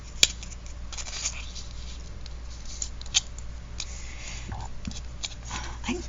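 Scissors snipping through decorative paper edging in a craft setting, a few sharp cuts scattered among soft paper rustling and handling noises, close by.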